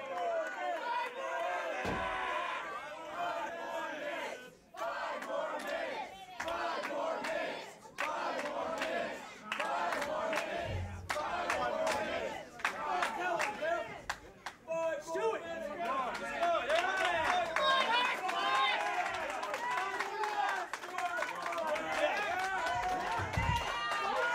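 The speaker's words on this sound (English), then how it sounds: "Crowd is calling for 5 more minutes." A wrestling crowd at the Mike Mondo vs. Biff Busick bout, just after a time limit draw, chants loudly and rhythmically for five more minutes, a dense roar of many voices filling the arena.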